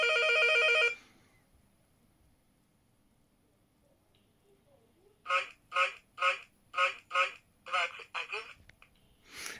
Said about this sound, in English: The fun part is being called on that phone.